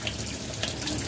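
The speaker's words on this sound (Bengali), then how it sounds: "দেখো মেশিনের ভেতরে জল পড়া শুরু হয়ে গেছে।" Tap water pours steadily into the tub of a Whirlpool 7 kg semi-automatic washing machine, a loud, continuous close rush and splash with no other sounds.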